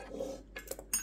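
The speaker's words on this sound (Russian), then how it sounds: "Прямо из сковороды перекладываем листочки в чашу блендера." Birch leaves are scraped from a frying pan into a blender bowl, giving a few soft metallic clinks and scrapes of utensil against cookware, quiet and close.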